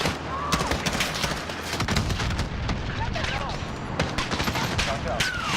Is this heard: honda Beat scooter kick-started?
no